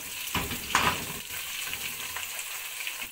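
Green chillies and vegetables dropped into a pan of browned ginger, garlic and onion masala for a potato-and-egg curry: a sudden sizzle and crackle as they hit the hot oil, settling into steady frying hiss.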